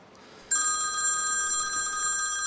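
A telephone bell starts ringing abruptly about half a second in and keeps up a steady, bright, sustained ring at close range until the end, with no talk over it.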